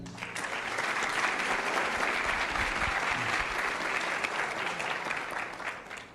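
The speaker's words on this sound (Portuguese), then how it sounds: "O nosso muito obrigado pela salva de palmas." Sustained applause from an audience at a university honorary professor ceremony, a steady dense patter of many hands clapping for several seconds before fading slightly at the end, with no talk over it.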